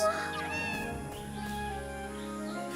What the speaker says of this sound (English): Is that the cat going nya?